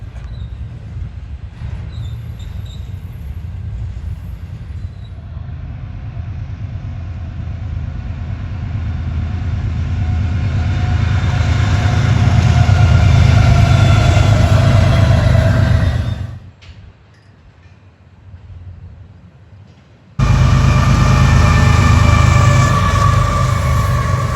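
A train rolls past on tracks beside the Erie Canal, a loud, steady rumble and clatter that swells as it passes close, briefly drops away, then returns at full strength.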